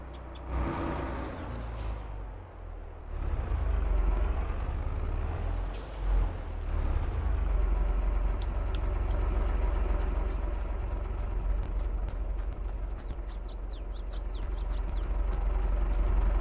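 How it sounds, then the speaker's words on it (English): A tractor engine in the game Farming Simulator 22 rumbles steadily near a building and echoes off it, a loud low drone with hissing bursts and faint high beeps near the end. "A tractor near a building echoes in the building."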